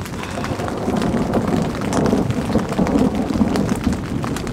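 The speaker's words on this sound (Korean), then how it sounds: "거의 한 30분째 계속 천둥 번개가 계속 치고 있어가지고" A thunderstorm with rain heard from inside a tent while camping under a Snow Peak Amenity Dome M: a dense, steady hiss of rain drumming on the fabric with a low rumbling undertone, loud and close, no voices.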